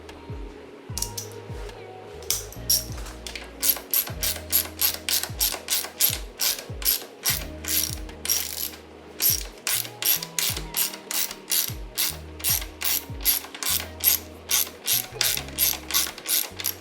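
Repeated clicking of a ratchet backing out a bolt on a 2022 Kawasaki Z900 motorcycle during a frame slider install, close and crisp in quick bursts of rhythmic clicks with brief pauses between strokes.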